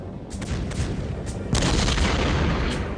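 German artillery fire shelling a church during the Second World War, a dense rumbling barrage of booms and crackling blasts, loud and continuous with sharper impacts swelling midway.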